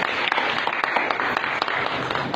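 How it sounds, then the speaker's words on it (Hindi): Clapping from a small gathering at a Bible study meeting, honoring Rahul, with a brisk, fairly close patter of hands whose individual claps stand out in a quick, uneven rhythm, moderately loud and without talk. "राहुल के लिए ताली बजाओगे"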